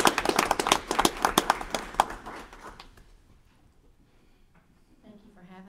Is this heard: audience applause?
yes